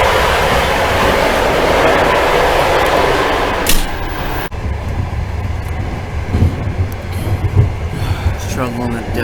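A train in Uzbekistan, crossing desert toward Nukus, rumbles steadily along the rails with a constant low roar, brief clatter and a sharp transition midway, with faint voices in the sleeper carriage.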